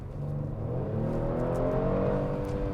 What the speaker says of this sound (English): I can mostly hear that pumped in intake